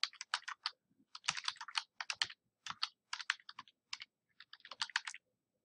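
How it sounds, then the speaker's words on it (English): Alternative text is typed on a computer keyboard in quick, close bursts of crisp keystrokes, broken by brief pauses, with quiet stillness between the runs. "type in"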